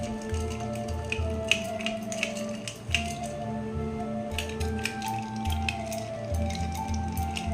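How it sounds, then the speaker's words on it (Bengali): Palm fruit sherbet made from tender palm kernels, seasoned with black salt and chaat masala, is stirred with a spoon, giving soft squishy, sloshing scrapes that repeat steadily and close up, with no talking. "এইভাবে করে একটুখানি ঘেটে দিতে হবে চামচ দিয়ে।"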